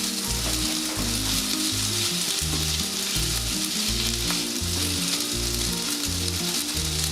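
Noodles coated in dark soy sauce fry in oil for rad nah. A loud, dense, continuous sizzle carries on alone, with a low repeating rumble from stirring or the burner underneath.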